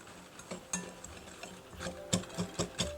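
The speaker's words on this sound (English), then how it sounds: "Then you're just going to take a whisk and whisk that up together." Quick, irregular scraping taps of a whisk working ground spices, cloves and nutmeg, into brown sugar in a bowl, close and fairly quiet, with no talking.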